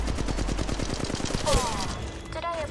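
Rapid automatic gunfire in the mobile battle-royale game Apex Legends Mobile: a fast run of evenly spaced shots, then a louder blast followed by short ringing tonal effects, close and dense.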